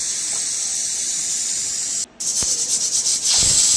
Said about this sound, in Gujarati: કુકરમાં સીટી વાગી ગઈ છે